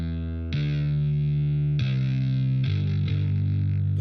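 A distorted, saturated bass guitar plays sustained notes in a rock instrumental mix with a Pro Q4 EQ switched on, the tone changing pitch every second or so, loud and continuous.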